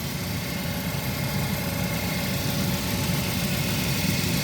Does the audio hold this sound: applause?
no